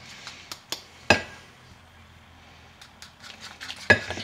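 Flour mixture stirred in a bowl, intermittent metal utensil clinks and knocks against the bowl with a few louder strikes and soft scraping between them, no talk.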